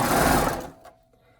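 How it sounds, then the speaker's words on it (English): Sewing machine stitching arm warmers in the round with the presser foot inside the fabric tube, a close, loud steady motor whir lasting under a second before stopping, followed by a faint click. "So now I'm going to sew inside the round"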